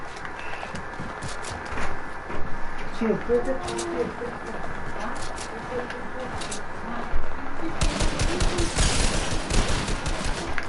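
Gunfire in the video game Fortnite: bursts of rapid shots around the middle, then a denser volley near the end, under a steady bed of game noise while a player talks throughout.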